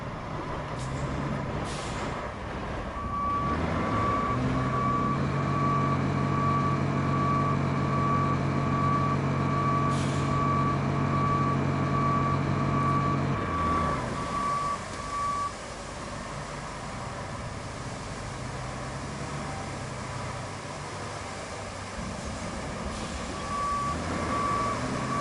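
A dump truck in the game RoadCraft drives with its engine rumbling and a steady, evenly spaced reversing beep repeating for long stretches, with a loud air-brake hiss partway through.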